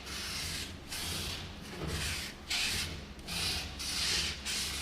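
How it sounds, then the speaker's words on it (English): A Scotch-Brite pad rubbing pitted metal from an Allis Chalmers engine on a sheet of OSB, rhythmic back-and-forth scrubbing strokes, about eight hissing passes, close and fairly quiet, no talking. "I've been using the Scotch-Brite pad on the back side of it, kind of like a sanding sponge"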